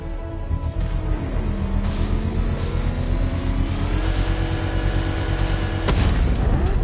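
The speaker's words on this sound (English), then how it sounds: "I can use the power winch to trigger a controlled explosion." A controlled bomb explosion in Batman Arkham Knight, set off with a power winch, comes as a deep, rumbling boom over a mechanical whine and drone, with a sharp crack and heavier blast near the end.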